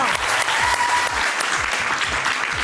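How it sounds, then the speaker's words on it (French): Talent show studio audience claps hard for the first contestants, a loud, dense, continuous burst of applause filling the space, with some voices faintly mixed in. "On les applaudit très très fort."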